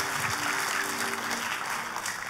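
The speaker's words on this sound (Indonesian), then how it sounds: "Tepuk tangan yang paling meriah buat Tuhan kita." A church congregation claps in a sustained, lively burst during a sermon, the dense applause even and steady throughout.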